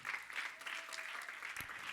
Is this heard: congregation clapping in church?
yes